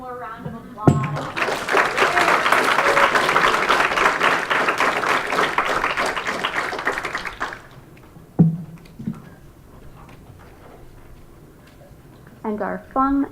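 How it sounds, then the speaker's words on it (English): High school poetry slam audience applauding, a dense burst of clapping lasting about seven seconds before fading, followed by scattered voices and brief noises. "We have one more round of applause."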